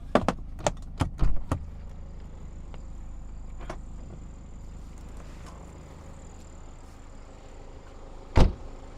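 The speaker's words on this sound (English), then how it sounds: "Very, very quiet engine." A 2018 BMW 328d xDrive Wagon idles as a very quiet, steady low hum, with a few sharp clicks and thumps near the start and one loud knock near the end.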